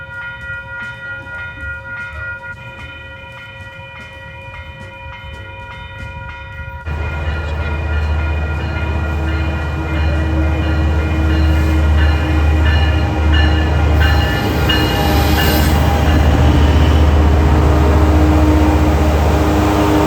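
A train rolls by. Quiet tonal sounds at first give way to a sudden loud, heavy rumble of rail cars that builds and stays close and strong to the end, with no voices.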